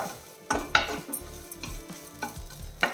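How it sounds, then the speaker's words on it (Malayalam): Coconut and drumstick leaves are stirred in a pan, with a spoon scraping and clinking against the metal in irregular strokes over a soft sizzle, close by and with no talking. "അപ്പോൾ ഒന്നുകൂടെ ഇളക്കി കൊടുക്കാം"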